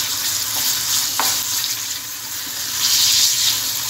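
Minced meat sautéing in a few spoonfuls of oil for stuffed artichokes, a loud, steady, close hiss of frying with a couple of faint utensil taps underneath.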